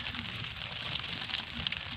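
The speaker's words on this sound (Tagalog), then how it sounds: "Ulan-ulan na naman." Steady rain pattering on a surface outdoors, a continuous soft hiss with faint crackling drops, heard alone at low level.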